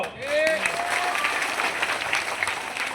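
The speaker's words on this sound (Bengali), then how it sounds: "আমি সবাইকে অনুরোধ করব তাদেরকে একটু হাততালি দেওয়ার জন্য" A crowd at a BNP workers' meeting in Chakaria claps steadily in dense, continuous applause, with a voice audible faintly through the clapping.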